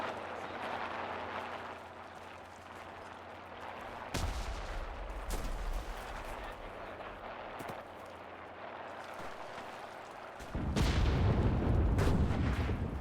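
A bomb dropped from a plane in the WWII shooter Enlisted explodes with a deep, heavy boom and rolling rumble, following an earlier thud amid scattered distant gunfire on a battlefield.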